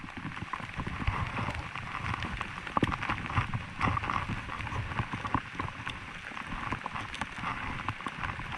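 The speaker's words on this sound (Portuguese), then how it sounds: "Muita chuva." Heavy rain pours steadily during an off-road ride on a Honda XRE 300 motorcycle between Pedro Afonso and Itacajá in Tocantins. A dense, even hiss of drops drums close by throughout, with scattered sharper patters and no speech.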